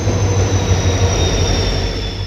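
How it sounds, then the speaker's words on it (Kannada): Train rumbling past at Davangere railway station, bound for Mangaluru, a steady loud low roar of wheels and carriages filling the whole stretch without a break. "ನೋಡಿ ಇದು ಮಂಗಳೂರು ಹೋಗುತ್ತೆ ಈ ಟ್ರೈನ್."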